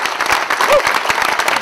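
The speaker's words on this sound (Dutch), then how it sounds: "Ik vraag jullie eigenlijk om een hartelijk applaus voor Jan Kees de Jager." An audience claps warmly after a Dutch minister is introduced, a dense, steady patter of many hands heard briefly and fairly loud.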